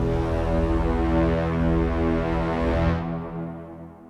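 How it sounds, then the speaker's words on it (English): Low strings, alpenhorns and Wagner tubas combine into a massive sustained war-horn chord, loud and dense, holding steady before dimming and fading in the last second. "You've got this war horn effect that's pretty much dominating the entire soundscape"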